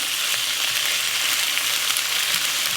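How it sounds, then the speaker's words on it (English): Onions and peppers fry in a pan for pork chops, giving a continuous loud bright sizzle with a few stirring clatters, close up and without talk. "we're going to toss in here our onions and our peppers and get them partly cooked in there as well"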